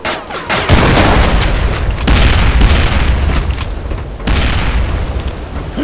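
Booming bomb explosions in the District 187 shooter game, loud and heavy, with several dense blasts rolling one after another and no talk.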